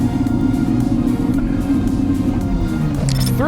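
Artificial engine sound from a Kia EV6 GT electric car, a loud, dense synthetic rumble with a steady droning tone, a brief rising sweep near the end.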